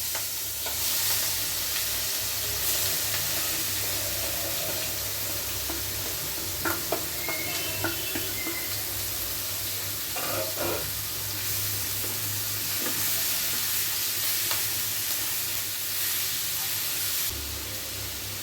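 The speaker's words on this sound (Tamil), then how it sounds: "அந்த தேங்காய் அந்த வெங்காயம் எல்லாமே நல்லா மிங்கிலாய் வெந்து வரும்" Prawns frying in coconut oil with coconut and onion in a pan, a continuous close sizzle and hiss with intermittent scraping stirs and clinks, steady and without speech.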